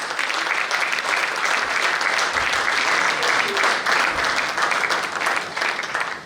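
A conference audience applauding warmly, a thick, sustained wash of clapping that holds steady throughout without letting up.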